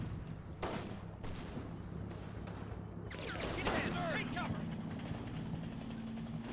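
Gunfire in the Combat Mission: Final Blitzkrieg war game during a mounted infantry attack: a dense, rumbling battle bed with bursts of shots swelling mid-clip, under a low steady engine drone and background talk.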